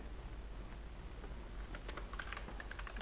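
Typing C++ code on a computer keyboard in VS Code, scattered keystrokes building into a faster run of clicks near the end, close and moderately quiet over a low steady hum.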